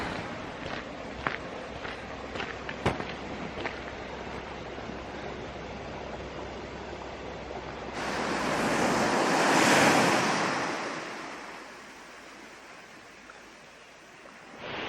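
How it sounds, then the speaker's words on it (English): Surf at the beach at Trebah in Cornwall after Storm Goretti, with a steady wash of waves and wind noise, a few crunching footsteps early on, and a louder breaking wave swelling and fading near the middle. "Getting down to the beach at Trebah is always so special."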